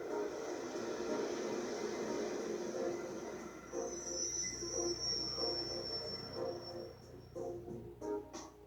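A train arrives at a station platform in the Trails of Cold Steel game, a steady rumbling roll with a rising wheel squeal, heard alone with no talk.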